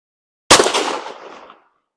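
A single sharp shot from a Rossi RS22M .22 rifle fitted with a night vision holographic scope, loud and close, ringing out and decaying over about a second, with no talk.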